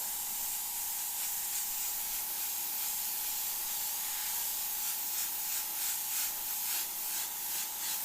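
Airbrush spraying deep purple candy paint to tint overspray, a steady close hiss with faint pulsing bursts as the trigger is worked, no talking.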